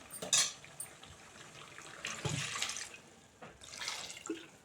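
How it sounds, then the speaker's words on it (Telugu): Water poured from a glass into a pot of farm chicken curry: a few short splashing gushes, one early and two longer pours later, moderately close with quiet kitchen clatter between. "దీంట్లో చివరిగా కొంచెం వాటర్ పోసుకుందాం"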